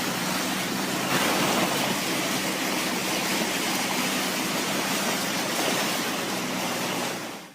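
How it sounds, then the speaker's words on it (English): Floodwater rushes loudly down a hail-covered street in Boise, Idaho, a dense, steady roar of churning water that holds constant for several seconds before fading out at the end. "Here's Boise, Idaho. Yet again, it's like a glacial hail river street."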